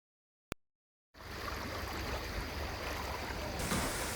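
A brief click, then a second of silence, followed by a steady, loud rush of flowing river water near a river mouth in St Lucia, South Africa, continuing without a break to the end.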